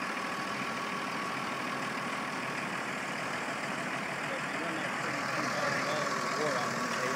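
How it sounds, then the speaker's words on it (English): A truck engine running steadily while hauling a mobile home trailer, a continuous low rumbling drone that swells slightly toward the end, with people talking over it. "Rednecks moving a trailer."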